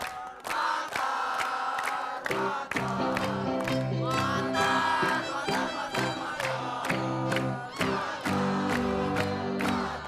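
A loud TV studio audience shouts and cheers over bright music, with sharp rhythmic hits punctuating the roar throughout.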